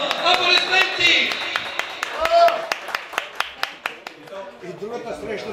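Applause at a twins' prom ball, heard as a steady run of crisp, evenly spaced hand claps over several seconds, kept up alongside voices and a melodic background.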